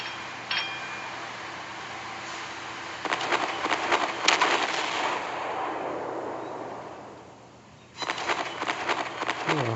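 Warship guns fire in the Naval Creed naval battle game, with a salvo of sharp cracks and booms rolling into a rumbling tail, then another cluster of shots near the end over a steady ship hum.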